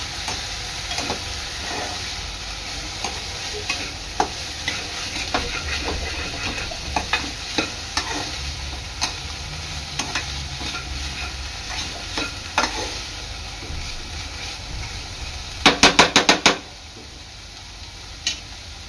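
Pizza pocket filling is stirred in a frying pan, with a spoon scraping and tapping against the pan over a soft, steady sizzle and a quick burst of clinks near the end.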